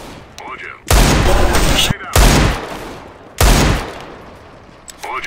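Gunfire in the CS:GO video game comes in three loud bursts of rapid automatic shots, each lasting about a second, with short quiet gaps between them.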